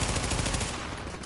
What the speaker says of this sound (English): Who's shooting me? Is there like a sniper somewhere?